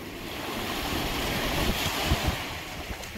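Sea waves wash onto the shore at Paros, Greece, a steady rolling surge mixed with wind noise, with a few heavier wave breaks toward the end and no voices.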